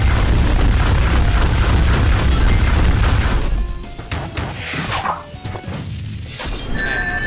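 E-123 Omega lands a heavy punch in Sonic Smackdown, a loud crashing boom followed by scattered smaller impacts and debris clatter, no voices heard.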